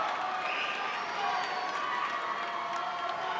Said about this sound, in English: You can hear the crowd urging him on.